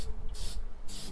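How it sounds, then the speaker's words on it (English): Rust-Oleum rust converting primer hisses from a spray can onto a steel rear bumper of an 84-2001 Jeep Cherokee XJ in two short, close bursts. "We started our bumper paintwork with Rust-Oleum's Rust Converting Primer."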